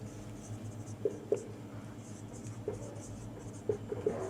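Pen writing notes in points during a class lesson, faint scratchy strokes with a few soft taps against a quiet room hum.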